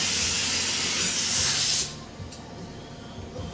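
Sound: spray painting a car bumper and hood

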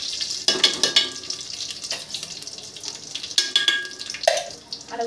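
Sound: curry leaves, mustard seeds, cumin sizzling in hot ghee

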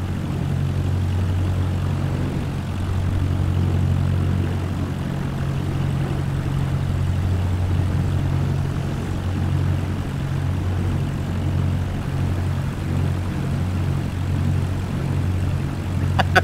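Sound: propeller airplane making a three-point landing touchdown

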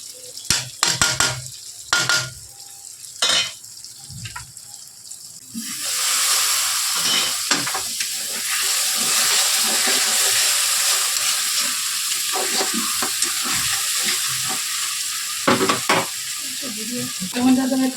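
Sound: sautéing spices with turmeric and Kashmiri chilli powder

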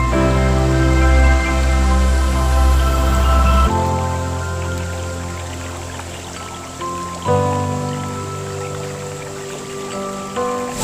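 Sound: waterfall about 60 metres high

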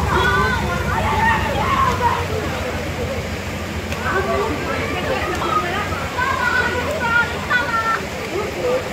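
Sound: water flooding into a house from a burst water pipe

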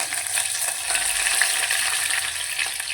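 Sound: mustard and fenugreek seeds crackling in hot oil

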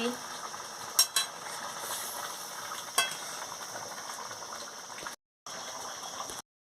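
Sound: fish curry with taro simmering in a pan

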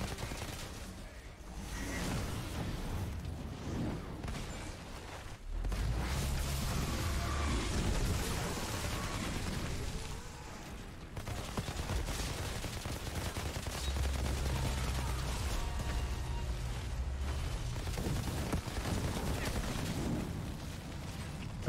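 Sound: gunfire shooting tanks in the video game Outriders

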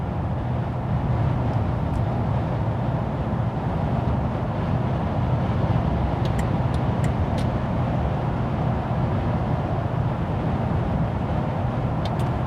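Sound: cabin noise while driving Mercedes-Benz GL 420 CDI

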